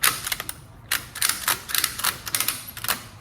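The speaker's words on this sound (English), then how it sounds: "when you're ready to ratchet it up, you just push the button, bring it forward, and then start ratcheting." A ratchet strap is cranked in quick bursts of sharp mechanical clicks, some grouped in rapid runs and some as single clacks, close and fairly crisp.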